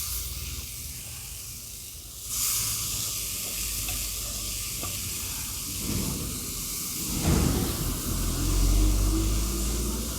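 Grated papaya goes into hot oil and ghee and sizzles steadily in a pan, with a louder hiss as it lands and scraping stirs near the end, close and alone without talk.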